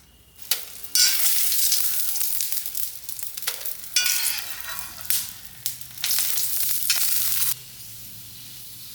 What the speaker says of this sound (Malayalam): കൊണ്ടാട്ടമുളക് അതാ അതുകൊണ്ട് വറുത്ത് വയ്ക്കാം